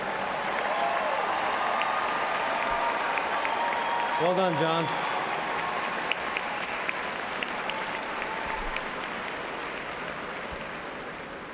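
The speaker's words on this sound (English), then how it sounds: "how about a big round of applause" Loud, steady applause from a large audience at a college commencement ceremony honoring a professor, continuous across the whole stretch, with a brief voice calling out partway through.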